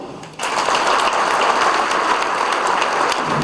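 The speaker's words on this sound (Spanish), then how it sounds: "Un aplauso." Audience applauding at a private university graduation ceremony, a dense, steady roar of many hands that bursts in after a brief quieter moment and holds loud and even to the end.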